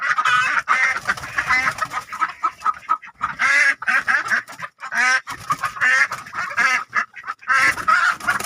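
Ducks quack loudly and repeatedly near a poultry coop, a run of nasal calls in uneven bursts with brief pauses between them and no talking.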